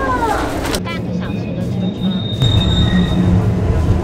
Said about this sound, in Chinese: 它这个火车行进的声音蛮疗愈的